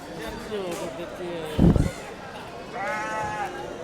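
Goats bleat several times, near and fairly loud, at the busy Kadiri animal market, with bursts of voices and background chatter mixed in.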